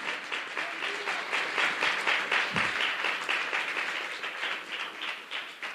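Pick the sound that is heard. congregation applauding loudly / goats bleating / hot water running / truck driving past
congregation applauding loudly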